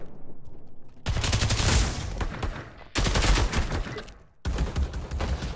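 Gunfire in the video game Pavlov: loud bursts of rapid shots come in three separate volleys, separated by brief quieter gaps with a low background hum.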